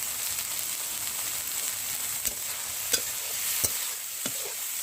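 Pumpkin flowers and prawns fry in a pan with salt and turmeric, giving a steady sizzling hiss broken by several sharp scrapes and taps of the spatula stirring.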